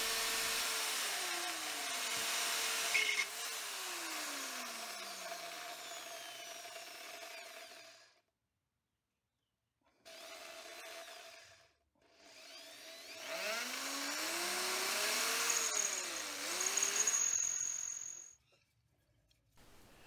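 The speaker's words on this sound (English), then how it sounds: "I'm just drilling a 5mm hole to be able to tap an M6 thread" A drill whines and grinds through steel plate, boring a 5mm hole, pausing briefly twice, its pitch sweeping as the bit bites and speeds up again.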